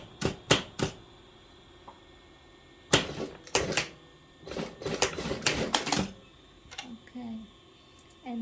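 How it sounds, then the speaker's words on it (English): A sewing machine stitches a seam while a long formal dress is taken in. Short, rapid clattering bursts come in quick runs with pauses between, close and fairly loud, and a little faint talk follows near the end. "and then I sew it."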